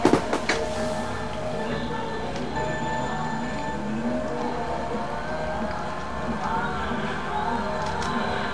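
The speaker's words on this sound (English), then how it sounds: "Oh, shoot, another train." A train rumbling past on a track in the racing video game Mario Kart 64, a steady mechanical drone with ticking clacks and engine whine, followed briefly by a player's voice.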